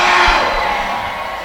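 A basketball crowd at a boys varsity high school game roars in a dense, loud, sustained wash of cheering and voices that eases slightly toward the end.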